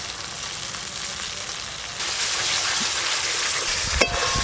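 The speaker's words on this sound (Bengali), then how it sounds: "এইভাবে নাড়তে নাড়তে অতিরিক্ত যে জলটা আছে ওই জলটা শুকিয়ে গেলেই হয়ে যাবে" Schezwan sauce being stirred in a pan as its excess water cooks off, a continuous loud sizzle and hiss that steps up after a couple of seconds, with a sharp scrape of the spoon near the end.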